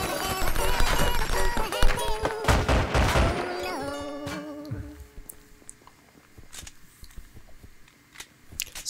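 A P90 submachine gun fires in the Roblox game Ohio, a dense burst of rapid shots for about three seconds that trails off into a scattering of quieter clicks and handling noises.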